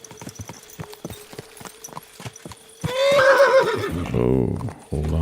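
A horse in Kingdom Come Deliverance 2 clops along with a steady run of hoofbeats, then lets out a loud, close whinny that trails into snorting, with no talk over it.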